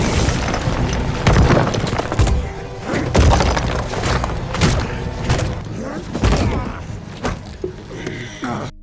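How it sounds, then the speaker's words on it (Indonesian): Explosions and destruction in a superhero film fight scene: repeated heavy booms, crashes and splintering debris, loud and dense, with shattering impacts every second or so. "mengakibatkan seluruh ruangan hancur karena serangan Soldier Boy."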